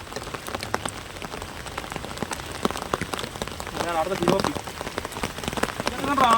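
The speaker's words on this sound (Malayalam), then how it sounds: "അല്ല കിടുക്കം മഴ കേട്ടോ" Heavy rain pours down steadily, drops pattering densely on a surface, with a voice speaking briefly near the end.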